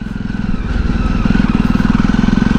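A motorcycle engine drones steadily and loudly during a solo ride, with a throbbing low pulse that builds slightly partway through. No voices are heard.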